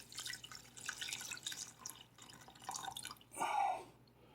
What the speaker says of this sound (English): Then what I do is I take my liquid and I pour it through the strainer.